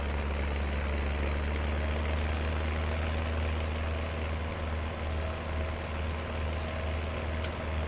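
A tractor engine in Farming Simulator 19 drives along with a steady, deep, low-pitched drone and an even rumble that never lets up. It is heard alone, with no voices.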